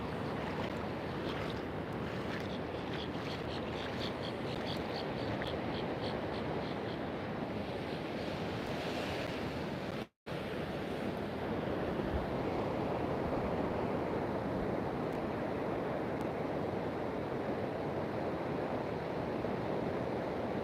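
Ocean waves washing steadily in a continuous broadband roar, mixed with wind buffeting the microphone, unbroken for the whole stretch apart from one instant dropout, with no one talking.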